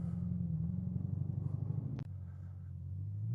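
A Bugatti Chiron accelerating away during a top-speed run, a deep continuous engine drone from the cabin that drops in pitch at a sharp shift-like break, then climbs again.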